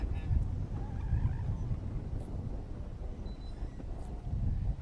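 A Toyota Supra runs an autocross course at a fairground, heard as a distant low engine rumble with wind noise rising and falling across a few seconds.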